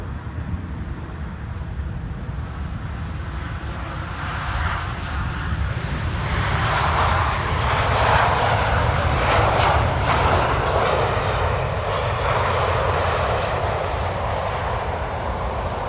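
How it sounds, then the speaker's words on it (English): Airliner landing in a crosswind at Amsterdam Schiphol Airport, a steady broad engine roar that swells and stays loud through touchdown, with no talk over it. "You can see now main gear touchdown, straightening the nose in line with the runway."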